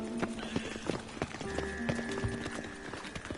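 Horse hooves clip-clopping in The Witcher video game, a steady trotting patter of hoofbeats with a faint whinny amid game ambience.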